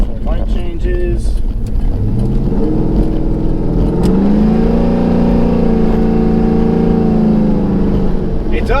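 A 1998-2002 F-body car fitted with a 3600 stall torque converter accelerates from a stop, its engine note climbing and then holding high revs, loud and close from inside the cabin, with a droning hum throughout.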